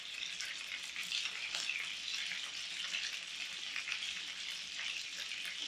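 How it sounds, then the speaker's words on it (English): Polish meat patties sizzle steadily in a frying pan, a dense, even crackle of hot fat that stays close and constant without pause or talk. "Can you hear the little sizzling noises?"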